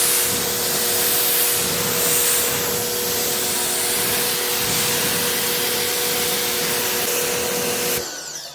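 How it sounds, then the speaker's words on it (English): Steady, continuous hiss of ceramic spray coating being spritzed onto a car during a professional exterior detail, loud and close, cutting off abruptly near the end. "So I'm just going to spritz it down here too."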